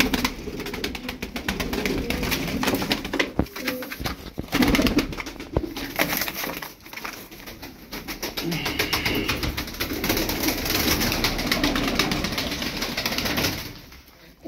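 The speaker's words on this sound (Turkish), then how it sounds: "On üç tane sağlıklı kuş buradalar, sizi bekliyorlar." Young tumbler pigeons cooing in soft, repeated low calls over a busy background, with occasional wing flutters and clicks, close by and fairly continuous.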